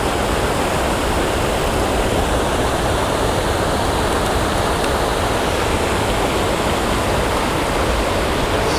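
Water rushing down an urban creek waterfall spillway, a loud, unbroken roar of falling water that holds steady from start to finish, close by, with no one speaking.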